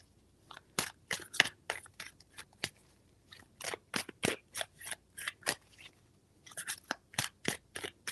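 Tarot cards are shuffled three times, giving quick bursts of crisp riffling snaps and clicks in uneven clusters, close and fairly quiet, with short pauses between the bursts.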